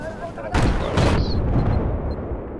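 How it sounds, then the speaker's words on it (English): A tank firing in the video game Battlefield 4, two heavy booming blasts close together that then roll into a long rumbling tail, loud and near, with faint game chatter around them. "A tank shooting at us."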